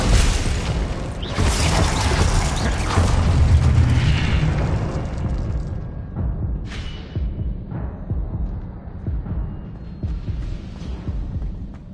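A Confringo explosion spell goes off in a wizard video game as a heavy, roaring blast that rumbles on for several seconds, followed by a few smaller pops and crackles fading out.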